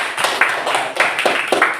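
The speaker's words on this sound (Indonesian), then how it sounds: "Nah, tepuk tangan kita semua." A class group claps hands briefly, a few uneven bursts of applause close by with no talking.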